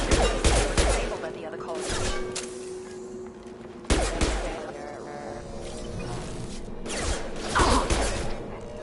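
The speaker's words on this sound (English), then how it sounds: "I should remember not to shoot when they're shooting at me." Rapid bursts of gunfire from the video game Mass Effect 2, with two loud sharp volleys and trailing clatter in a busy combat mix; a faint voice is present underneath.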